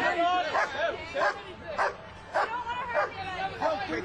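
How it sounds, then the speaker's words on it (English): A dog barks and yips repeatedly in quick, evenly spaced bursts at a tense street protest over a marijuana arrest, with agitated crowd voices and speech babble underneath. "Get that dog away from here!"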